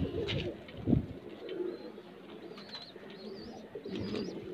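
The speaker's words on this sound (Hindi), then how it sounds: "एकदम सफ़ेद आंखों का कबूतर" Domestic high flyer pigeons, including a white-eyed bird with clipped wings, coo softly and repeatedly nearby in a low, throaty rhythm, with faint higher chirps scattered through the background.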